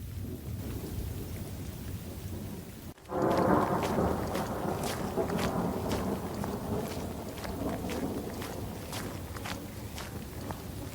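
Heavy rain pouring steadily while a sharp thunderclap breaks in about three seconds through and rolls on as a low rumble beneath the downpour, with scattered crackling drops.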